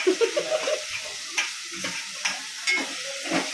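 Chopped onion sizzles and crackles in hot oil in a home kitchen while snacks are made, with a steady frying hiss, scattered pops and occasional stirring scrapes close by.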